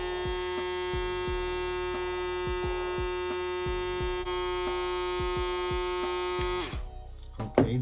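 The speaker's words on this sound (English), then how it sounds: "let's check the RPM of this Babyliss Pro shaver" A Babyliss Pro electric shaver buzzes with a steady, close, high-pitched hum for several seconds, cut through by regular soft thumps, then switches off near the end.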